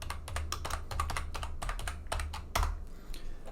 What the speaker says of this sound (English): we would just type in autoload example